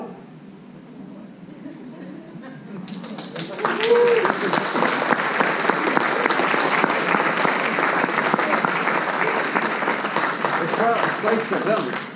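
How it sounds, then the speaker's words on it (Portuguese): A lecture audience at an education event breaks into dense, sustained applause. It swells in loudly after a quieter start and keeps going steadily to the end, with many hands clapping at once. "obrigado pelos aplausos"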